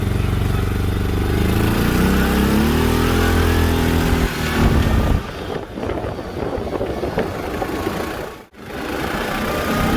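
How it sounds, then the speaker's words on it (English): An ATV or dune buggy on a ride in the Dominican Republic, its engine droning loudly and revving with shifting pitch, heavy wind buffeting the microphone, near and continuous. "I don't know what that is, an ATV or a dual buggy, whatever it is."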